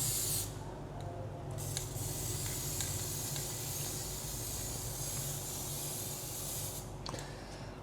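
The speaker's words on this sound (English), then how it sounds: "Okay, so we spray in this whitish color, so at least you can see the contrast later on when we do this vacuum forming." Continuous aerosol spray hiss coats a plastic sample in whitish paint ahead of vacuum forming, steady and close for several seconds, with brief gaps at the start and near the end.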